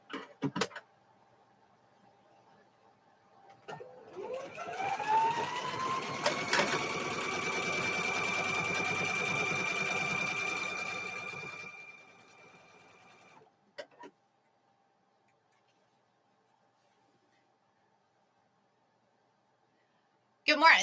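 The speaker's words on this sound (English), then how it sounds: "we're just still sewing the squares together" A sewing machine stitches cow-themed quilt squares together in one steady whirring run of about eight seconds that ramps up and winds down, framed by quiet and a few small clicks.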